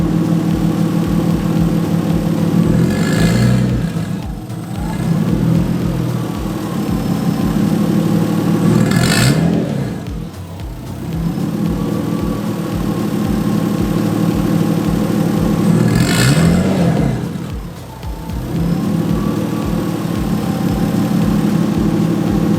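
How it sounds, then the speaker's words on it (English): An RB25DET engine swapped into a Nissan S13 idles steadily and loudly up close, with the throttle blipped three times so the revs swell briefly and settle back to idle. "I'll slightly touch the throttle body and it'll come up and it'll come back down to idle"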